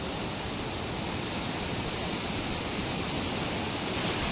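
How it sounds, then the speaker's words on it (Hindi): Roaring waterfall beside the Char Dham pilgrimage route in the Himalayas, a steady broadband rush of falling water heard up close, continuous and unbroken with no voices. "ये देख लो भाई एक और झरना है।"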